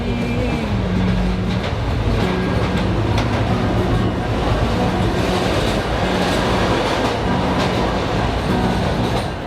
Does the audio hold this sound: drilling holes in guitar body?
no